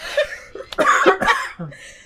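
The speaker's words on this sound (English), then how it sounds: "Just still got the cough" A person coughs several times in quick, close, harsh bursts, with a throaty rasp between them and a brief soft tail at the end.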